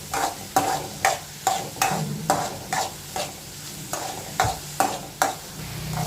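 Onions with a couple pinches of salt cooking in a pan for egg pasta, heard as a spatula stirring and scraping in a steady rhythm of near, sharp strokes over a soft, continuous sizzle, with no talking.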